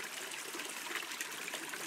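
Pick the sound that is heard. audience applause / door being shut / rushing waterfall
rushing waterfall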